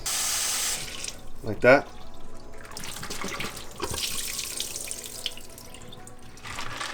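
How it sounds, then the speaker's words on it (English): Tap water runs steadily as debris and built-up detritus are rinsed out of a plastic aquarium filter bottle, with a brief louder splash early on; someone speaks briefly over the flow. "this will rinse out all the detritus that's built up inside this bottle"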